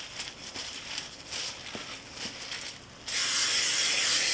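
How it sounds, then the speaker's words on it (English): Spray oil is spritzed onto raw chicken wings before air frying: a few light taps and rustles, then one loud, close, sustained hiss lasting over a second at the end. "We're going to go ahead and spritz them down with some spray oil."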